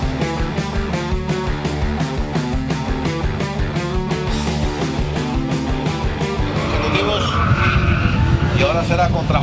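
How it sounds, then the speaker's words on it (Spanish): BMW biturbo drag race cars launching down a quarter-mile strip, their engines roaring loud and continuous with tire squeal, rising into a harsher burst of revving near the end. "Y ahora será contra Jorge Pimienta, carril derecho, también en BMW, vehículo biturbo"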